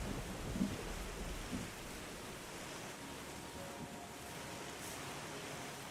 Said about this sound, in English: The rain just washes it all away.